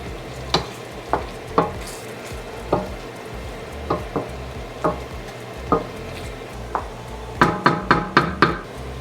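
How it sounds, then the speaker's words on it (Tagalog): Picadillo is stirred in a pan with a spoon: a steady series of sharp scrapes and knocks over a soft sizzle, speeding into a quick burst of strokes near the end. "Tapos haluin lang natin."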